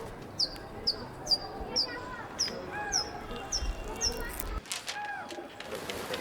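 Several short pigeon calls repeat at a steady pace over a low, rumbling background in Delhi, with soft cooing tones and a few flutters toward the end.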